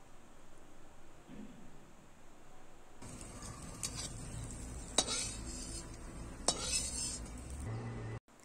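Soya chunks being lifted out of hot frying oil, with a quiet simmering sizzle joined by sharp clinks and scrapes of a metal utensil against the pan.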